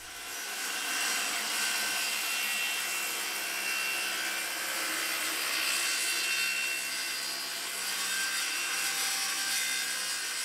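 Wood pieces for a boat cabin being cut with a saw, a steady continuous rasping cutting noise running throughout at close range with no talk.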